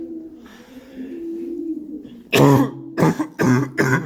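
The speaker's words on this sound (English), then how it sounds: "Right where the pigeons are." Pigeons at Kenilworth Castle ruins coo nearby, with a low drawn-out call followed by several louder, rougher throaty coos in quick succession, echoing slightly in the stone setting.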